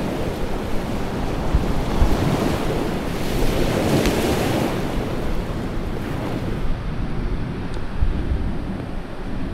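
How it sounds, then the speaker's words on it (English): Ocean surf breaking on the shore at Cape Perpetua on the Oregon coast, a steady loud roar of waves with gusts of wind buffeting the microphone throughout. "Can you hear the ocean?"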